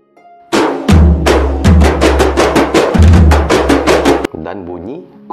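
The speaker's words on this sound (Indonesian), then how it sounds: "Dan bunyi kompang." A kompang frame drum ensemble beats loud, sharp hand strikes in a quick repeating pattern, about a dozen close hits, followed by a brief voice-like tonal sound at the end.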